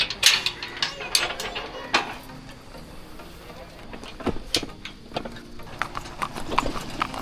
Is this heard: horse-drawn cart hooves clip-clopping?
yes